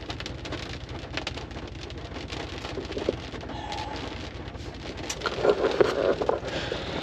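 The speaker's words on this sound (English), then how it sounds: "It's raining." Steady rain patters on surfaces nearby, a continuous dense hiss with scattered heavier drips, no talking.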